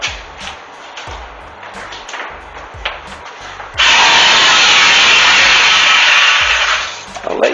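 Scattered light knocks and scraping come first, then an electric hand planer roars loudly and steadily across a countertop for about three and a half seconds before it stops.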